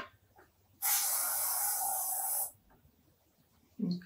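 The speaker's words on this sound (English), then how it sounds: "I'm gonna put some cooking spray." Cooking spray hisses from an aerosol can into a pan while making egg burritos: one steady, loud, continuous spray of about two seconds, alone, then quiet room noise and a brief knock at the end.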